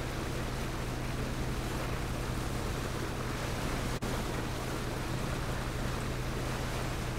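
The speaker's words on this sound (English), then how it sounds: "I only hear the boat." Boat engine and waves in a multiplayer shooter video game near an island, a constant broad rushing wash of water and motor noise at low level, with no talk.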